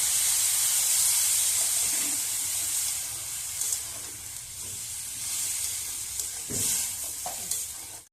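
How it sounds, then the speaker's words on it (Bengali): Vegetables in a pan sizzle and hiss steadily after water goes in, a dense, bright frying noise with occasional stirring clinks and scrapes, close and continuous for several seconds, while pumpkin khichuri and chop are being cooked. "সবজিগুলো কষিয়ে নেওয়ার জন্য জল দিয়ে দেবো"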